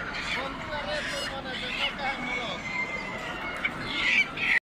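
Poultry at a Friday bird market in Buraydah, with local laying hens for sale, calling in a busy outdoor setting. Bird honks and squawks rise and fall under steady crowd noise and someone talking.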